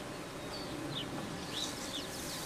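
Many honey bees buzz inside a busy hive during an inspection, a dense, steady hum with faint higher drones passing close by.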